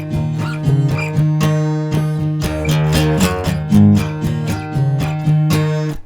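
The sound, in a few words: acoustic guitar playing a theme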